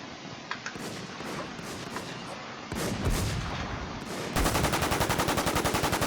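Gunfire in the survival shooter WarZ starts as scattered single shots, then turns into a loud, rapid automatic burst that keeps going steadily to the end, with no voices.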